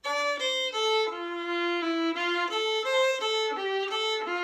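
A fiddle plays a short phrase of a tune, bowing a steady run of distinct notes that step up and down, close and clear with no talking.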